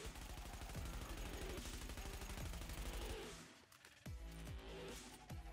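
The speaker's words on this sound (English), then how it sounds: "And this is short-range fire without fighting the recoil." A Vector submachine gun in the video game The Division fires rapid close-range bursts, dense loud rattling shots with a short pause before more bursts.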